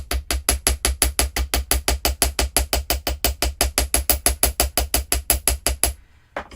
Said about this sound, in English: that I'm hammering, in case you guys are wondering about that